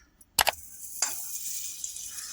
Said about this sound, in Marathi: इथे बघा कढई ठेवली मी आता याच्यात बटर टाकते